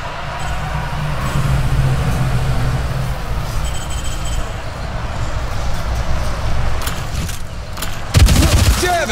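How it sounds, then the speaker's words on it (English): Explosion in the turn-based tactical RPG Showgunners: a heavy, rumbling boom with dense low-end roar sustained over several seconds, ending in a sharp loud burst near the end, with a voice briefly heard. "explosion!"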